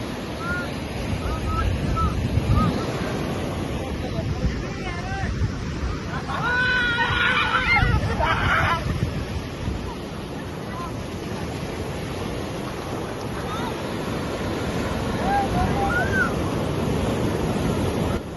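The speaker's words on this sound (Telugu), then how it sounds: "అసలు ఆ అలల సౌండ్ అదంతా కూర్చొని వింటుంటే చాలా బాగా అనిపించింది." Sea waves breaking on Gokarna beach, a continuous loud roar of surf that rises and falls in slow surges, with wind buffeting the microphone and faint voices of people playing in the water.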